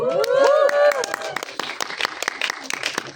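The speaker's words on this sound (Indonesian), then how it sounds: "mari kita sambut dengan tepuk tangan yang meriah" Enthusiastic cheering voices at the start give way to a crowd clapping at a film press conference and screening, sharp hand claps continuing steadily and fairly close.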